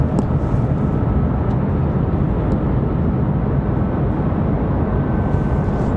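Boeing 737 jet engine run-up at an airport, a continuous heavy low roar at constant loudness throughout, dense and rumbling with no breaks, heard from a distance across the field.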